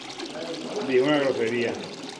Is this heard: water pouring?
yes